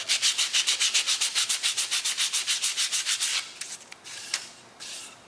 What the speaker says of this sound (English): See, we're getting all that varnish off. It's about how we want to sand it right there.